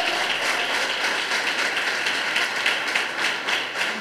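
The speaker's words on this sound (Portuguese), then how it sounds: "Pode aplaudir o Senhor" A church congregation applauds continuously, a steady dense wash of many hands clapping at moderate distance, without pauses.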